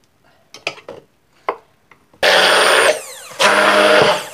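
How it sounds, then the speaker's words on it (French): An immersion blender purees cooked sweet potatoes in a bowl: a few light knocks and clicks, then two loud, steady whirring bursts of the motor at close range. "On va maintenant les couper en morceaux et les mettre dans notre récipient pour pouvoir les mixer avec le mixeur plongeant."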